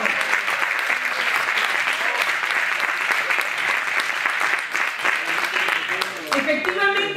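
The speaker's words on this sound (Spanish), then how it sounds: "Venga, un aplauso." An audience at a creativity workshop breaks into a sustained round of dense clapping, steady and close, with a few voices emerging near the end.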